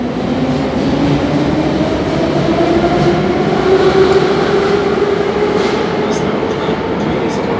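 A Moscow metro train heading to Pechatniki station rumbles along in a loud, continuous roar inside the car, with rising motor whine and faint voices mixed in.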